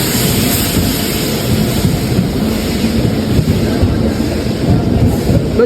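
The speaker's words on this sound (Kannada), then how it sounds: "ಫೈನಲಿ ಟ್ರೈನ್ ಬಂತು ಟ್ರೈನ್ ಬಂತು" A loud, continuous rumble of a train arriving at a station close by, with steady low roar and rattling noise throughout.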